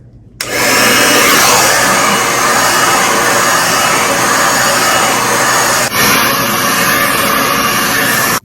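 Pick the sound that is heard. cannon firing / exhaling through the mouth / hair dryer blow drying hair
hair dryer blow drying hair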